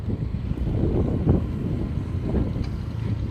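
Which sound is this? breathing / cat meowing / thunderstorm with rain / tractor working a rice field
tractor working a rice field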